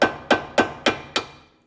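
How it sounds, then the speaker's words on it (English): Hammer striking a chisel against a riveted ball joint on a 2014 Chevrolet Trax, five sharp metallic blows in steady rhythm about a third of a second apart, close and loud, each ringing briefly before the next. "Now all we gotta do is just take a chisel and hammer and"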